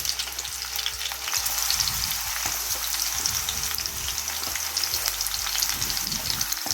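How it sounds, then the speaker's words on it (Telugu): Chopped onions hit hot oil in a pan and fry with a steady, close sizzle and crackle, with occasional stirring scrapes and no talk. "ఆయిల్ వేడెక్కిన తర్వాత కట్ చేసి పెట్టుకున్న ఉల్లిపాయలు వేసుకోవాలి."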